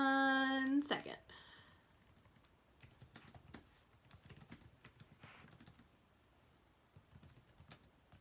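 Typing on a computer keyboard, a soft, irregular patter of keystrokes that runs on steadily and close by after a brief voice at the very start.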